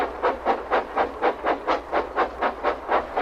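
Thomas the steam engine chuffing steadily along the line, about a dozen evenly spaced rhythmic puffs of steam, loud and close with no talking.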